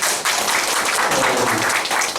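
Audience applause in a lecture hall at a polytechnic college talk, a steady wash of clapping from a seated crowd that starts abruptly and continues without a break, fairly loud and filling the room.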